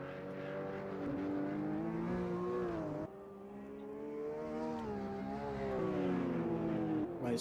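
Race cars at Oulton Park circuit whine past with harmonic engine notes that rise and fall as they shift gears, steady and fairly loud throughout, one pass blending into the next.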